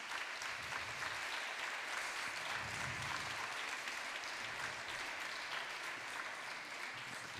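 An audience claps steadily at a literary prize reading as a performer goes on stage. The applause is continuous and even, heard from a distance and fairly soft, with no voices over it.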